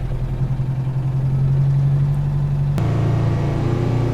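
A Detroit 8V92 diesel in a Peterbilt 359 rumbles loudly up close with a strong steady drone, then its pitch jumps suddenly as the engine is revved, holding at a higher, rougher roar.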